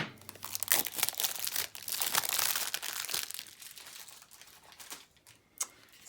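Plastic wrap being torn and peeled off a boxed tarot deck, The Playful Heart Tarot, with close, irregular crinkling and crackling bursts that thin out toward the end, heard alone with no talking.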